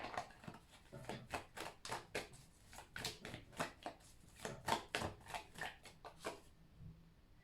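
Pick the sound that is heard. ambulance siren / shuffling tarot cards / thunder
shuffling tarot cards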